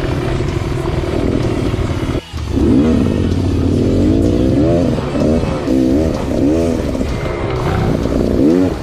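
A Husqvarna 701 adventure motorcycle rides along a gathering route, its engine droning loudly and steadily throughout with rising and falling revs, a brief dip near the start, and no talk.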